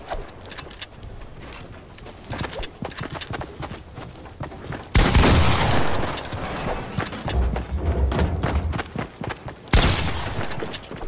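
Pump shotgun blasts in Fortnite Battle Royale, Season 8: loud, broadband bursts at irregular intervals over busy game noise, with the heaviest shots landing midway and near the end.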